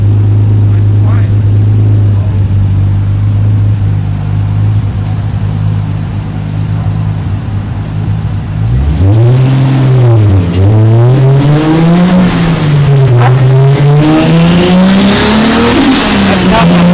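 A turbocharged E85 car with a six-speed swap and 15 psi base boost, noted as having a bad injector, idles loudly, then revs up and down in several rising and falling sweeps, close and steady throughout.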